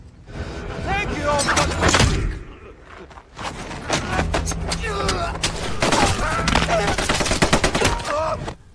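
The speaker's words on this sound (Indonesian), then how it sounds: "Barulah ketika mendengar suara tembakan beruntun, Bruno menyadari ada sesuatu yang tak beres." Rapid bursts of gunfire crackle in two long volleys separated by a brief pause, loud and sustained, with voices and music mixed underneath.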